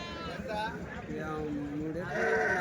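Sheep bleat close by at a livestock market in Kadiri, long wavering cries overlapping with people talking nearby.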